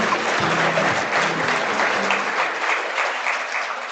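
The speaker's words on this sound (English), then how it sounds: "Let's give them a round of applause," Conference audience at an oil and gas event breaks into a round of applause, a dense, loud, steady clapping that carries on for several seconds with a faint voice briefly under it at the start.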